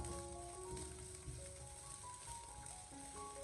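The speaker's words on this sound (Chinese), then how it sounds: "我们开中大火给它持续的翻炒大概2分钟左右" Cooked rice stir-fried over medium-high heat in a wok, a steady close sizzle of frying with faint scraping and tossing throughout, no talking.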